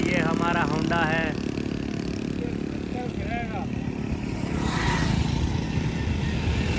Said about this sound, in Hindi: ये जी हमारा होंडा पहुंच रहा है अनकरीब